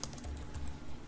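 Someone types C++ code on a computer keyboard, giving quick, close, quiet clicks in a steady flurry with no voices.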